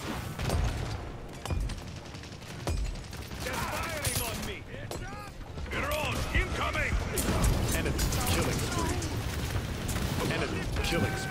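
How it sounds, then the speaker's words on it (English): Gunfire in the shooter game Paladins crackles in bursts under a busy battle mix of effects and music, with a player talking over much of it. "He's shooting."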